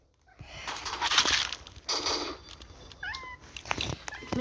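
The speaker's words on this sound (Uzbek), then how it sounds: "Endi mana mushuk bezor qiladi." A house cat meows several times at close range, one drawn-out, rising cry near the end, amid light indoor rustling and clatter.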